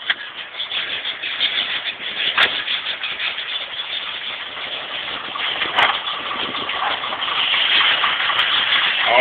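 A 1983 Ford F-100 pickup with a 351 Windsor engine cranks and starts, then settles into a rough, steady idle nearby.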